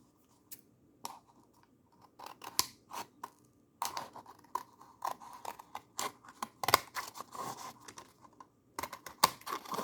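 Scissors cut paper while a Christmas tree craft is being made, giving a series of sharp, close, irregular snips and crisp clicks that come in quick bursts without talk.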